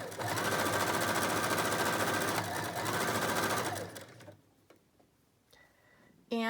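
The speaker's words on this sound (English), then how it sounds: "So I'm just gonna just sew right over the top here." A sewing machine stitches over the top of a gray bonnet mask, running in a fast, steady mechanical whir for about four seconds before stopping, followed by quieter handling sounds and a faint speaking voice.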